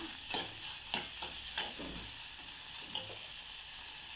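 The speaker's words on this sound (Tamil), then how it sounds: "மெல்லிசா ஒரு பச்சை மிளகா சேர்த்துருக்கேன் சேர்த்துட்டு அப்படியே நல்லா வதக்கி எடுத்துக்கலாம்" Onion and thinly sliced green chili sauté in a hot pan with a steady sizzle, while a spoon scrapes and stirs in several sharp strokes close by. No one speaks.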